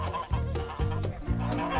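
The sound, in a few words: geese calling each other to food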